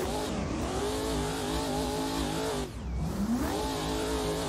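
A BMW M4 drift car in a racing video game revs hard and steadily, its engine note rising and falling with a brief dip before climbing again, loud and close with a hint of tire squeal.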